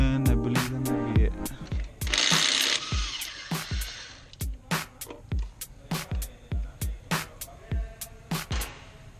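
A socket wrench ratchets 10mm bolts off a Toyota 4Runner throttle body, giving a close, loud series of rapid clicks in bursts that settle into a steady rhythmic clatter, with a brief mechanical whir early on.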